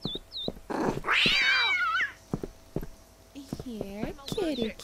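A cat meows in the video game Postal 4: a loud, wavering meow rises and falls at close range, with shorter mews before and after and a voice talking around it.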